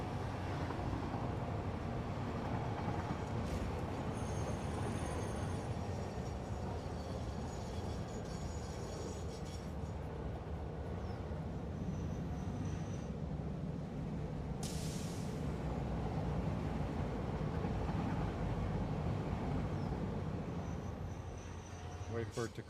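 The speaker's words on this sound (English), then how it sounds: "that one's waiting for the other train to come through" A train runs along rails in the game Satisfactory, giving a steady, continuous rumble and rolling clatter throughout while a person talks over it.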